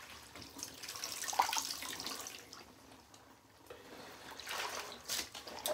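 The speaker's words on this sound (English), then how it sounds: "give them a rinse, check any of the spots where I saw some stains" Running water splashes and trickles in a sink as crocheted doily dresses are rinsed by hand, a close, fluctuating wash with brief swells and quieter dips.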